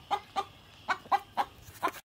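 A hen clucking in a chicken run, six short, close, soft clucks in an even rhythm with no talk over them.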